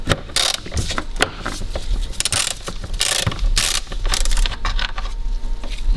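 A hand ratchet loosens a 13 mm bolt holding the power steering fluid reservoir to the airbox of a Dodge Grand Caravan, giving close, repeated bursts of rapid clicking with short pauses between strokes.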